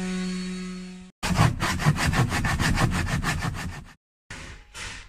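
A hand saw cuts with rapid back-and-forth rasping strokes in a steady rhythm, loud and close, after a brief low hum, then stops and starts again after a short pause.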